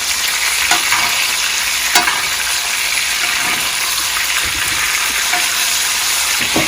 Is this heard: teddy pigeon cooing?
no